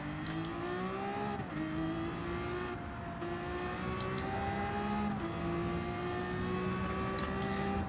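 A Lamborghini VGT race car on the Interlagos circuit in Gran Turismo 7 revs hard with a high, whining engine note that climbs through gears, dropping briefly at each shift, steady and up close with no talk.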